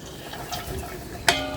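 Crushed garlic frying slowly over low heat in a pan, a soft, faint sizzle running steadily throughout, with a sharper scrape or clink of stirring near the end.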